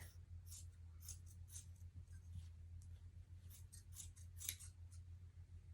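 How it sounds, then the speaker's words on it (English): Scissors snip repeatedly through fabric scraps being trimmed off a recycled-fabric blanket, a series of close, crisp cuts over a steady low hum. "So I just get back here and cut all that off and incorporate it in the rest of the blanket."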